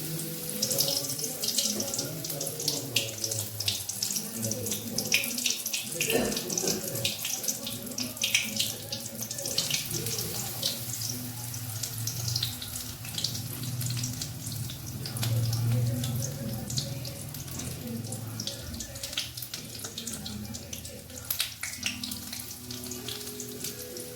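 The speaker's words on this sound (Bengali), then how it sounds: "এভাবে বাকিগুলো আমি ভেজে নিচ্ছি" Battered chicken kebab sticks fry in hot oil with a continuous crackling sizzle, steady and close, that carries on throughout with small bursts of popping.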